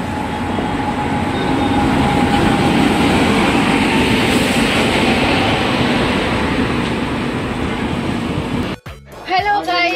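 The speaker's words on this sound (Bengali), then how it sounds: "আমরা এখন রাজধানী এক্সপ্রেসে উঠে পড়েছি।" A Rajdhani Express train runs at speed, heard from inside a carriage as a loud, steady rumble of wheels and rails that holds throughout, with a brief voice right at the end.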